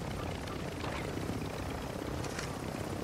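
A helicopter in the video game DMZ gives a steady, dense rotor drone that stays constant and fairly close for a few seconds, with no talk.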